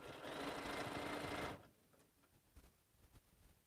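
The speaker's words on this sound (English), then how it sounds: "So I'm going to stitch this 1/4 inch seam here." A sewing machine stitching a quarter-inch seam on a lined stocking, running as a steady, fast mechanical whir for about a second and a half close by, then stopping, followed by faint handling noises.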